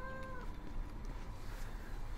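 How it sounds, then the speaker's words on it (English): A cat meows in the early part, a brief tonal call at close range over a steady background hum, in a game-recording setting with a cat nearby. "Excuse me, kitty cat, but I am recording."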